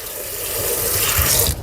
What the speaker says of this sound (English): empty the rinse into the sink